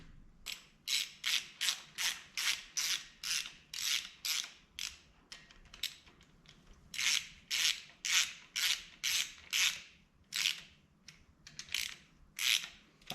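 A ratchet tightens the connecting rod cap bolts on a 2JZ engine, a close, crisp clicking repeated in quick strokes, two long runs of steady ratcheting separated by a short pause.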